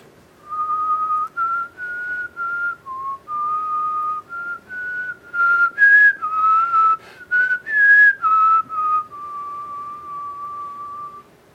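A single person whistles a theme, a clear melodic line of sustained and stepping notes, close and alone for about eleven seconds.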